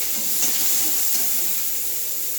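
Chopped onion goes into hot oil with tempering spices and is stirred, producing a constant steady hiss and sizzle with a few faint scrapes, alone without talk.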